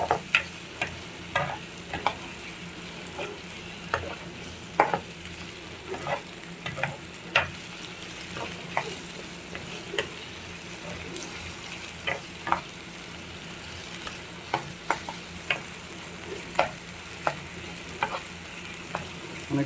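Tomatoes fry in a pan under a steady sizzle while a utensil stirs continuously, its scrapes and taps recurring at irregular intervals close to the listener.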